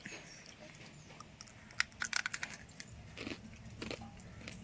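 Crunchy homemade murukku is bitten and chewed up close, giving a quick cluster of sharp crunches followed by softer chewing, with light rain outside.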